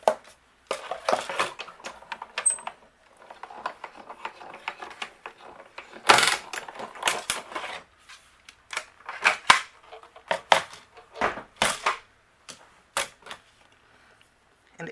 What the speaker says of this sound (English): I'm going to run this through my die cut machine really quickly.